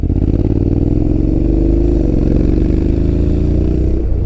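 A Honda X-ADV 750 scooter pulls away in eco mode, its engine a steady near hum that rises gently in pitch as it gathers speed, loud and with no talking over it.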